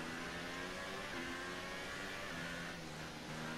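Renault Formula 1 engine in F1 2018 at the Australian circuit, a steady loud drone with sustained harmonic whine that shifts slightly in pitch, holding continuously throughout.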